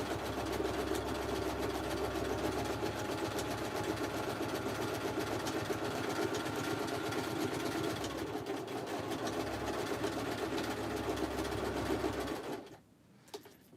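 Sewing machine stitching a coffin bag, a fast continuous mechanical whir with rapid needle clatter running steadily for about twelve seconds before stopping abruptly, close and alone.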